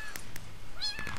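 Cats meow in the Hypixel Party Games video game: a few soft clicks, then a clear, bright mew near the end, set over a low background hum.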